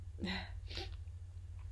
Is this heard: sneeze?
yes